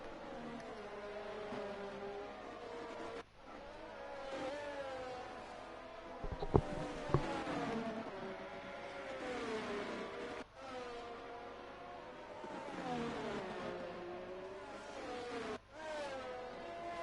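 A Red Bull Formula 1 car engine in a racing video game at the Spanish round, a high-pitched whine rising and falling through gear shifts, with other cars droning alongside and a faint voice underneath.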